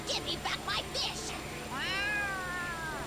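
A cat in the Yakuza: Like A Dragon video game gives a series of short chirpy meows, then one longer drawn-out meow, loud over steady game background noise.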